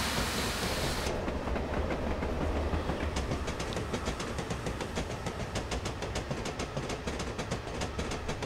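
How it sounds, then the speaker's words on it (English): Train passing by in Train Simulator 2016 on the Western Lines of Scotland with a 9F locomotive, a loud rumble that shifts after a second into rapid rhythmic clickety-clack of wheels over rail joints, continuing steadily. "I'll let you have enjoy another flyby on the train."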